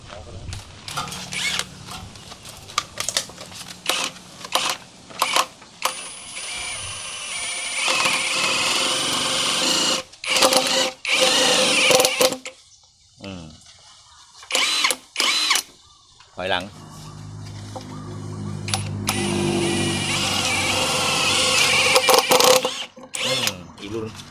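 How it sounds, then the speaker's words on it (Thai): An Osuka OSID520 128V cordless drill bores into steel in loud whirring bursts, several short spurts and longer runs separated by brief pauses, with someone talking between them. "มาทีนี้เดี๋ยวจะไปลองเจาะเหล็กกันนะครับ"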